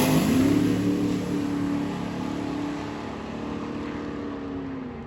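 Drag racing cars, including a turbo truck and a nitrous Camaro, roar off the line with loud engine noise that rises in pitch and then eases into a sustained drone as they pull away.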